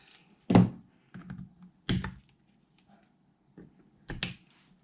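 Sharp cutting snaps on cell blocks from a 36V 9000mAh rear carrier e-bike battery pack during repair, four close clicks or clips at irregular intervals with quieter crunches between.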